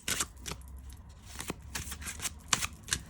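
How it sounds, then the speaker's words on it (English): Stiff glossy oracle cards are shuffled close up, with quick riffling bursts and soft slaps repeating at an uneven rhythm. "So try to shuffle this."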